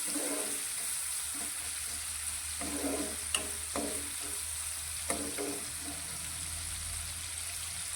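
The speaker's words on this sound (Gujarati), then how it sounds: "હવે ટામેટાં સારી રીતે સોફ્ટ થાય ત્યાં સુધી તેને આ રીતે આપણે ચડવા દઈશું" Tomatoes softening with salt in a pan of bottle gourd curry, a steady close sizzle with several soft stirring scrapes and a couple of faint clinks, no voices.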